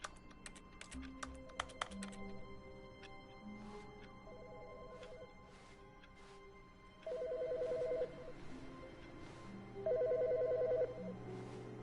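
A telephone rings inside the video game The Stanley Parable, two loud bursts of electronic ringing amid quiet ambient game sound with some earlier clicks and tones.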